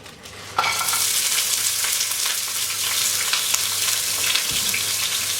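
Frozen onions hit a hot pan with a sudden burst of sizzling that settles into a steady, loud frying hiss, with light stirring scrapes, for a tuna bake.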